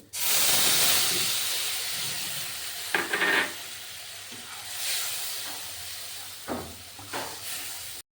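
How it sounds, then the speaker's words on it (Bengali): A mixed spice paste of chili, coriander and cumin powders blended with water sizzles steadily in a hot pan, with a continuous bright hiss and a few brief louder spits and stirring scrapes along the way. "এবার এটা ভালোভাবে জল দিয়ে মিশিয়ে নেব আমি মেশানো মশলাটা দিয়ে দিচ্ছি"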